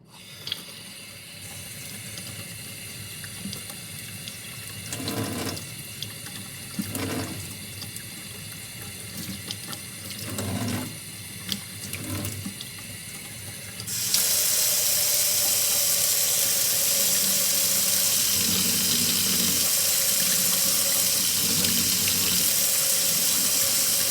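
A tap runs at a low trickle through a spoon diffuser with some clinks and squeaks, then opens up to a loud, steady full-flow rush for the last ten seconds.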